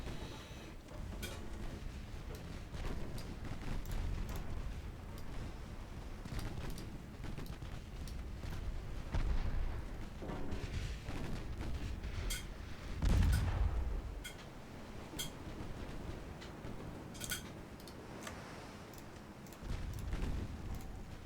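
Warship guns firing broadsides in a naval video game, with a continuous barrage of booming artillery blasts and rumbling explosions, moderately loud and sustained, with one heavier blast partway through.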